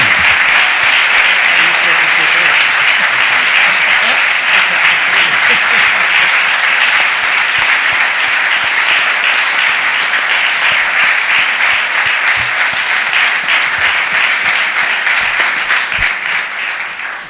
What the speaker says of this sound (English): can we give them a round of applause for their years of service?